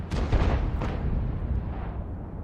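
A heavy tank gun fires in a World of Tanks battle, a deep booming blast with a short rumbling tail. A second, lighter report follows just after.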